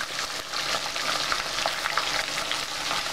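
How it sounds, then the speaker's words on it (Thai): Turmeric-coated fish deep frying two at a time in plenty of oil, a loud, dense, continuous bubbling sizzle heard up close with no one talking. "ค่อยๆทยอยใส่ลงไปนะคะ ทอดทีละสองตัวนะ"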